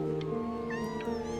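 Cats meowing indoors in a home with several cats, a short drawn-out cry over a steady tonal hum, fairly close and alone without talk.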